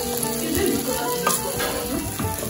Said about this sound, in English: one she's just frying her meat